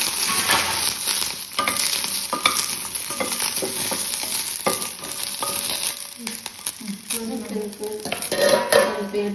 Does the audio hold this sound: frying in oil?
yes